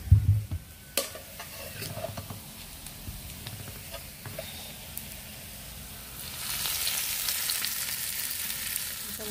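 Hot oil poured over a dish bursts into a steady, loud sizzle and crackle that swells toward the end, after a few clunks at the start, with no talking.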